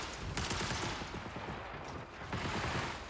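Distant gunfire rattles outside in the sci-fi shooter Marathon, a dense, steady stream of rapid muffled shots without a break.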